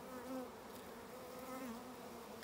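Honeybees buzz steadily inside a nucleus hive during a colony split, a close, continuous droning swarm hum with no voices.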